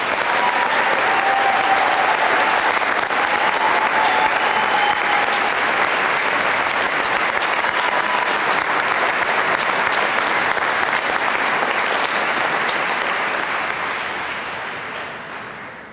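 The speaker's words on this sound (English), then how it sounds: "Please give her one more round of applause" A graduation ceremony audience gives a long, loud round of applause for the retiring superintendent of schools, dense steady clapping filling the hall that holds evenly before tapering off near the end.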